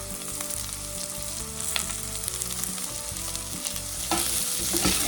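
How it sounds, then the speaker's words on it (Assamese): Green beans stir-fry in a pan over low heat, a steady close sizzle and frying crackle with occasional scrapes of stirring, no voices over it. "বিনছখিনি মই এতিয়া ভাজি ল'ম অলপমান কম জুই ধুনীয়াকৈ ভাজি ল'ম"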